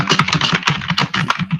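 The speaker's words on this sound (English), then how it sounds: "I know you can hear the typing" Close, rapid typing on a computer keyboard, a steady clatter of many crisp key clicks with an uneven rhythm, heard alone with no talking.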